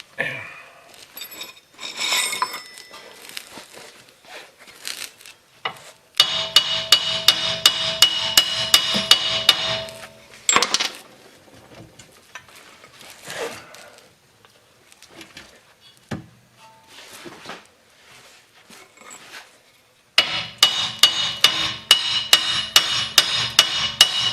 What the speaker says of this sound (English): when in doubt, use a hammer.